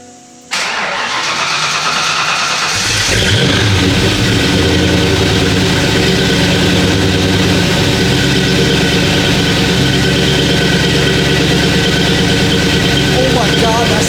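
A Ford Mustang with a custom 2.5-inch exhaust, Flowmaster mufflers and a catless H-pipe cranks and fires up loudly close by, then settles into a steady, rumbling idle that runs on without a break.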